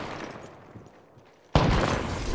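Sudden loud burst of gunfire in the video game Apex Legends erupts after a quieter stretch and sustains dense, continuous shooting to the end.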